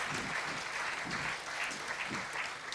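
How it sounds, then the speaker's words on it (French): A crowd at a conference event applauds to welcome a comedian on stage, producing an even, continuous wash of clapping at moderate distance that holds steady throughout. "j'imagine que cet humoriste a besoin d'encouragement et d'applaudissements afin de venir"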